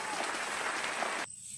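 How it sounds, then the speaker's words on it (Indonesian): A brief burst of group applause, steady clapping from many hands that cuts off abruptly near the end. "Kita beri tepuk tangan untuk temannya."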